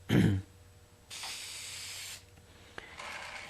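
Two bursts of steady hissing spray as lacquer is sprayed onto wood, each lasting about a second, close by, with a brief knock between them and quiet background.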